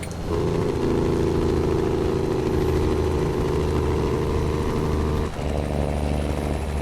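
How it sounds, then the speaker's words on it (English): A heavy truck engine in American Truck Simulator roars steadily with a deep rumble, then drops off abruptly near the end as the engine brake engages, settling into a lower, quieter drone. "Listen to the engine brake."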